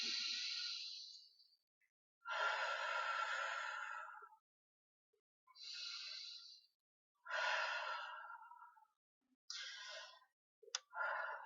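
Slow, deep breaths during a Pilates thoracic breathing exercise, each long airy inhale or exhale separated by silence, close and clear, about six breaths in sequence.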